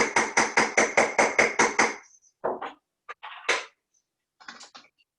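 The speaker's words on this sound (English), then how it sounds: "my stamp is always in my non-dominant hand and my hammer is in my dominant hand" A rapid run of about ten crisp metallic hammer strikes on a metal stamp, then a few scattered knocks and taps with short pauses between them.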